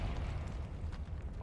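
The Confringo fire spell in the Hogwarts Legacy video game lands as a short, rumbling explosive burst that fills the whole brief moment.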